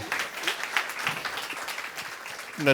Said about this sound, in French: une main d'applaudissement pour notre